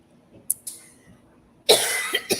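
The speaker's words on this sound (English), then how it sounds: "I don't know why I'm coughing" A person coughs sharply a couple of times, with a quiet pause between, then breaks into a harsher, longer coughing fit up close.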